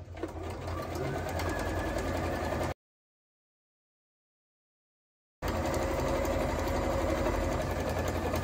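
Sewing machine stitching fabric in a sewing lesson, a steady near mechanical whirr that runs continuously, cuts out completely for a few seconds of silence, then starts up again at the same pace.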